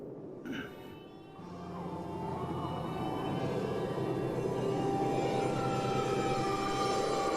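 A WWII trainer aircraft flies at an air show, its engine drone rising from a faint start to a loud, steady pass overhead.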